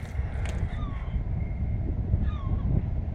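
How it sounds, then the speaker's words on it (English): A crow on a rooftop caws a few times, harsh calls standing out at moderate distance over steady outdoor wind and low rumble. "Oh, but we do have a crow."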